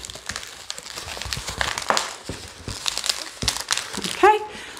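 Modelling balloons being twisted together into a balloon handbag, giving crinkly rubber rubbing and squeaking sounds close up, ending in a sharp squeak, with a voice talking over the handling.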